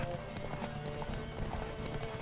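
Horse hooves galloping in The Witcher 3, a rapid, steady clip-clop rhythm that is loud and continuous, with game ambience underneath and faint voices in the background.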